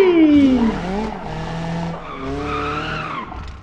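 Tires skid hard as a car brakes in BeamNG.drive, with a loud squeal that slides downward in pitch, then a steady engine and rolling-tire drone, ending in another shorter squeal.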